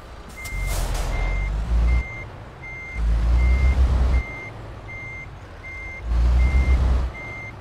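A truck in Euro Truck Simulator 2 backs up with a steady, evenly spaced reversing beep, loud and close, while the engine drones and swells in three long surges underneath.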